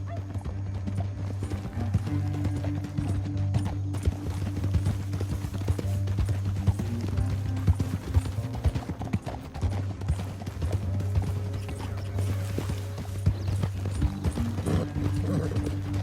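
Rapid hoofbeats of a galloping horse in the video game Red Dead Redemption 2 clatter steadily throughout over a low rumbling bed, with the horse snorting and whinnying now and then; loud and continuous.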